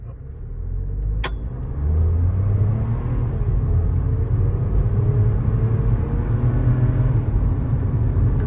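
A Mahindra 3XO car accelerates from inside the cabin, a steady low engine drone and road rumble building gradually and holding loud, with a single sharp click near the start.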